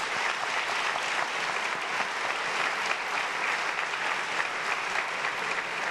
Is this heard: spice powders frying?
no